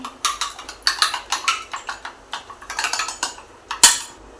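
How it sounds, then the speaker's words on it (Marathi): Eggs and tomato for a Schezwan omelette are beaten in a bowl, giving quick rhythmic clinks and taps at close range, with a sharper knock near the end and no talking. "टॉमॅटो आणि हे मिक्स करून घेऊया फेटवून घेऊया असं"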